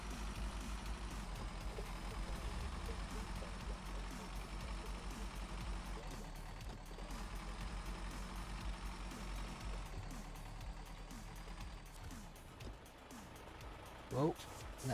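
A truck in Snowrunner slowly lines up to drive onto a trailer, its engine a continuous low, fairly quiet drone with faint clunks, lasting the whole stretch.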